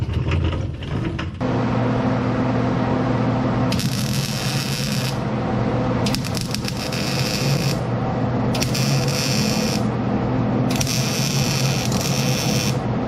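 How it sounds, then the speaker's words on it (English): Metal parts are welded on a 1970 GMC truck rebuild in four separate bursts of harsh crackling hiss, each lasting one to two seconds, over a steady low workshop hum. "I think we can take it apart and finish weld it now"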